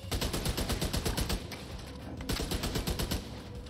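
Rapid automatic turret fire in The Division 2 hammers out a dense, loud burst of gunshots from about 0 to 1.5 seconds. A brief lull follows, then a second sustained volley of shots resumes, with no talk over it.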